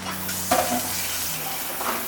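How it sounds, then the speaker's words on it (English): Vegan beef and broccoli broth is stirred in a pot, a steady simmering hiss with a brief scraping clink of the spoon partway through. "Just give it a stir."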